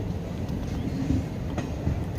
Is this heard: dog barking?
no